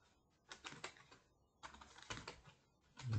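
Typing on a computer keyboard while entering data in MS Excel, with two quick bursts of soft, close key clicks separated by a brief pause, and no voices.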